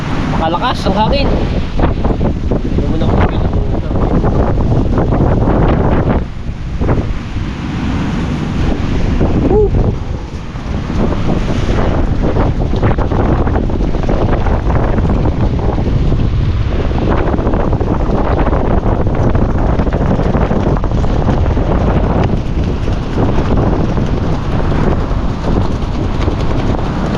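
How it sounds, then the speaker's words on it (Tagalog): Strong wind roars across the microphone at the beach in a constant heavy rush, with what sounds like surf in the background and a brief lull partway through. "Makalakas ang hangin."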